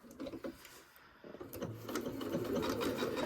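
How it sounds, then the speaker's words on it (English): A home sewing machine stitches down a label with white thread, a steady mechanical whir and rattle that starts softly and grows louder and more continuous over a few seconds, close by with no talking. "I'm going to sew this label down first."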